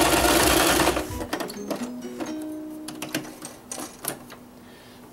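A sewing machine runs a rolled hem on fabric: a short burst of fast, loud stitching, then slower stop-start bursts and mechanical clicks, close up and with no speech.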